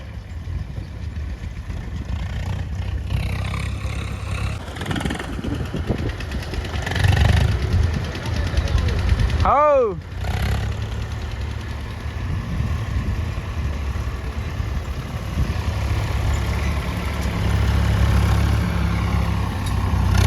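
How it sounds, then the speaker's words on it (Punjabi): A tractor engine idling on a farm during the straw harvest, a steady low rumbling drone close by with a brief whining sweep near the middle, no talk. "ਲਾਡੀ ਦਾ ਟਰੈਕਟਰ ਲਾਡੀ ਨਾਲ ਆਇਆ"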